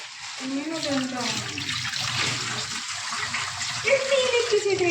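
Water gushes steadily from a tap in a home, a broad continuous rush filling the whole clip while voices talk over it.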